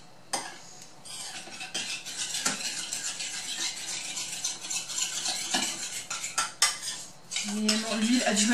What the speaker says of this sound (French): on mélange donc les ingrédients liquides ensemble